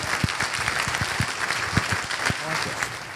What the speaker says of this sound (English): Give him a hand of applause